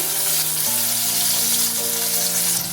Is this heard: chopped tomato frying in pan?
yes